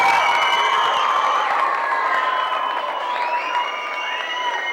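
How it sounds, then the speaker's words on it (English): Audience applause and cheering at a Manitoba Winter Games announcement, steady crowd clapping mixed with high whistles and shouting voices, moderately loud and continuous from start to finish. "One more big round of applause for everybody and for the Manitoba Games."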